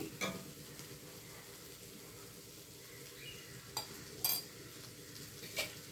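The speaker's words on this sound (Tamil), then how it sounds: "இப்படியே ஒரு பத்து நிமிஷம் நம்ம சிம்மில் வச்சு ஃப்ரை பண்ணி எடுப்போம்" Ivy gourd frying in oil over a low flame gives a soft, steady sizzle, with a few faint clinks of a spoon against the pan.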